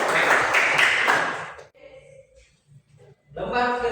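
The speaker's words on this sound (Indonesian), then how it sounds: "Ya, tepuk tangan untuk mirip." A class of students breaks into a short burst of applause that fades out after about a second and a half, followed by quiet room sounds and then a voice speaking.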